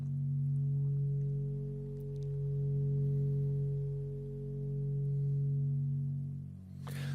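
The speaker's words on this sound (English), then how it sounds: "there's that beautiful sine wave" A steady, pure low tone hums continuously, swelling and dipping gently in loudness in a slow wavering beat, with a brief click at the end.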